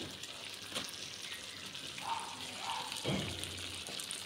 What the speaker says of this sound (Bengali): এবার আস্তে আস্তে ভাজা হতে থাক।